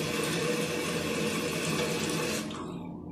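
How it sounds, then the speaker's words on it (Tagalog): Water runs steadily into a toilet tank through the fill valve while the float sits low, a close, continuous hissing rush that cuts off abruptly near the end. "Pag nakababa siya, dire-diretso ang tapo ng tubig."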